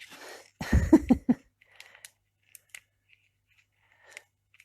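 Snips of scissors cutting paper follow a short burst of rustling and handling noise, a few sharp separate clicks spread out and fairly close, with quiet gaps between.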